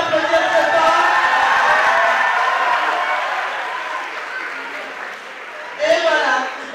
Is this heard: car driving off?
no